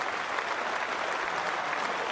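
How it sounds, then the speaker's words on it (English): A cricket crowd at a Test match at Lord's applauds a batsman reaching fifty, steady sustained clapping from a large crowd filling the whole stretch without a break. "everybody's clapping him, and quite rightly too."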